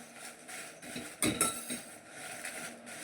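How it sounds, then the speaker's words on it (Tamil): Whole spices for sambar powder dry-roasted in a pan, stirred a little at a time, giving scattered metallic scrapes and clinks of a spoon against the pan, with a louder cluster of knocks midway, no talking. "கொஞ்சம் கொஞ்சமாக போட்டு வறுத்துக்கோங்க."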